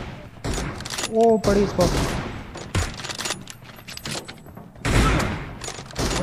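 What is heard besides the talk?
gunshots in PUBG Mobile video game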